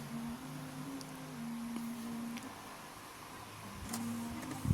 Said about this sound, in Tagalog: Hintayin lang hanggang sa matapos sa pag-i-ink flash yung printer.